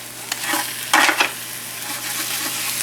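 A tomahawk steak sizzling in a pan, a steady close hiss with a brief louder burst of spatter and scraping near the middle, then settling back into an even fry with no talking.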